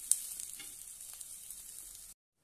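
Bottle gourd vadis fry in hot oil with a faint, steady, close sizzle and a few light crackles, ending abruptly in silence.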